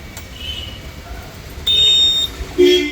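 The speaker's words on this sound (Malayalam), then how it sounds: "സ്റ്റിയറിംഗ് ബോസിന്റെ ഹോണിന്റെ കവർ സെറ്റ് ആയിട്ടുണ്ട് ഹോൺ അടിച്ചറ" A jeep horn, sounded from a newly fitted steering boss cover, gives a loud, thin, high-pitched beep lasting about half a second, followed by a shorter blip a moment later.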